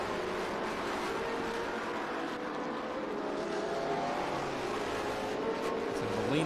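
Trans Am race cars fight through a tight corner at Circuit of the Americas, engines droning and revving at a distance under a commentator's voice, one note rising toward the end as a car accelerates out.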